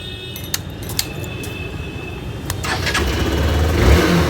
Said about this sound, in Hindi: अब आपको सुनाने की कोशिश करते हैं इसके ट्यून्ड एग्जॉस्ट को हम